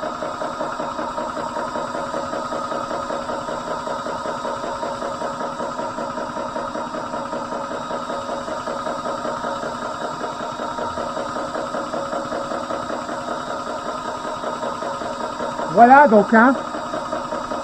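A TUXING PCP air compressor runs with a steady, even mechanical drone and a rapid rhythmic pulsing, close and constant, while someone speaks briefly near the end.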